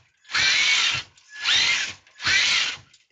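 A Traxxas TRX4 RC truck's electric motor runs flat out in first gear, whining loudly in three sustained bursts of about a second each with short pauses between, and no talking.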